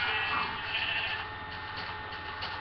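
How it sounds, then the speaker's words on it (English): A sheep in the Minecraft video game bleats in a steady, continuous tone over low game ambience, clear and fairly loud with no voices on top. "Don't kill the sheep yet."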